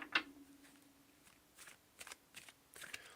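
A deck of tarot cards being shuffled for a reading, heard as a quick, close riffle followed by several soft, brief card flicks and shuffles in a quiet room.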